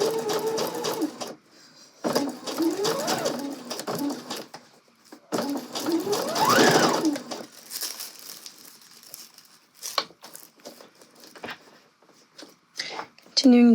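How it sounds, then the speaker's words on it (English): A sewing machine stitches a gathered skirt in several bursts of rapid mechanical whirring, broken by pauses filled with fabric rustling and handling noise, with a person speaking between the runs. "as I'm sewing, I'm just kind of pulling the skirt smooth, making sure there's no weird bumps or anything in the gathers."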